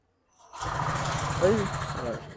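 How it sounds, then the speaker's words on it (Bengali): A TVS XL motorcycle with electric self-start fires up after a short silence and settles into a close, steady low engine rumble, with a person talking over it. "ধরার লগে লগে স্টার্ট সেলফ স্টার্ট"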